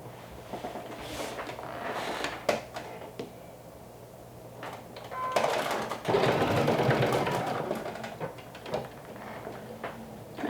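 Home sewing machine stitching a fabric waistband, short whirring runs of stitching broken by clicks, knocks and handling noises of the fabric and machine nearby.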